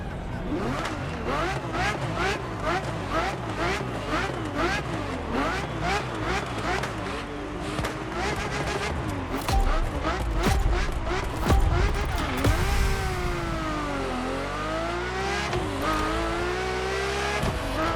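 A Ferrari F50 engine revs and shifts through gears while driving in The Crew Motorfest, its pitch climbing and dropping in repeated sweeps with a tire squeal late on, loud and close under a continuous music bed.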